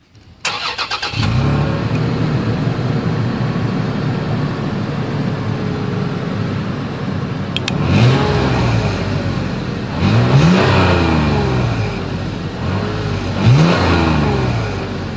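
A 2021 Toyota 4Runner starts up, settles into a steady idle with a deep exhaust note, then is revved three times, each rev rising and falling, heard up close with no talking.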